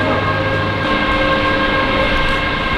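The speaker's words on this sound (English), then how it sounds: "This is the Romanian sleeper train." A Romanian sleeper train on an overnight run from Hungary to Romania, with a steady loud rumble of the rail carriage and a low hum throughout, heard from on board.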